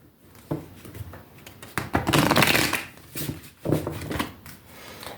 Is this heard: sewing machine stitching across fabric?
no